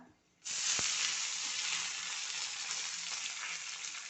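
Curry leaves drop into hot oil, with the gas just switched off, for an okra moru curry. A sudden loud sizzle bursts out after a brief quiet moment and keeps up a steady, close crackling hiss.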